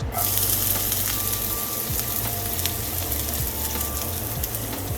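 Onions sizzle and crackle steadily in a hot oil-coated pan for an omelet dinner, a dense continuous frying hiss close to the listener with faint stirring scrapes.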